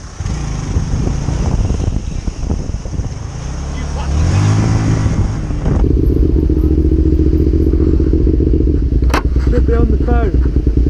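A motorcycle engine revs up loudly close by during a roadside confrontation, then settles into a steady, throaty idle, with people talking over it.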